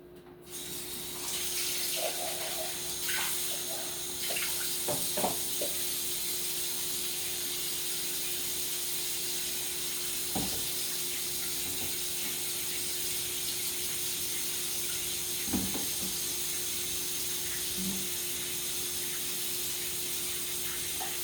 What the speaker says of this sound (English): Okay, let's strain our pasta that we've been boiling.